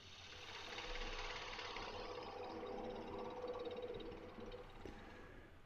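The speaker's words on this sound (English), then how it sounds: "now I'm going to switch over to my spindle detail gouge" Wooden bowl spinning on a lathe while a spindle detail gouge cuts into it, giving a steady, fairly loud hiss of scraping and cutting with a faint low motor hum underneath, continuous throughout.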